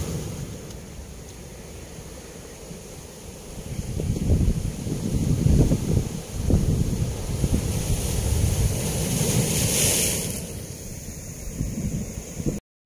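Ocean waves wash in steadily at Manakkakadavu beach near Ponnani, a loud continuous surf roar with strong wind buffeting the microphone throughout, swelling in the middle.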